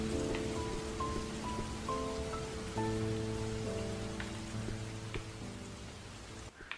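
Rain falling in the puzzle game Flood of Light, a soft even hiss of drops under a gentle melodic tune of sustained tones, fading slightly toward the end.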